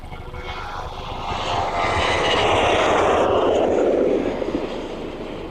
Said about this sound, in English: The service to Ibiza looks like that one is going to depart just a little ahead of that Ryanair.